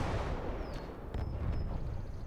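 A tank gun firing in the WWII game Gates of Hell, an IS-2 against a Panther, booms with a deep, rumbling blast that stays heavy throughout the short moment, with a couple of sharp impacts.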